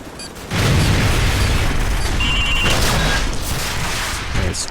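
Javelin missile strikes destroying tanks in Call of Duty 4: Modern Warfare, a loud booming blast followed by sustained rumbling explosion and debris noise.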